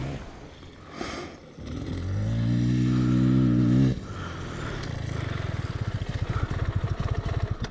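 A 2023 KTM 500 EXC-F dirt bike fitted with a Graves exhaust runs close by, a short revving burst giving way to a rough, uneven idle with a rapid pulsing thump.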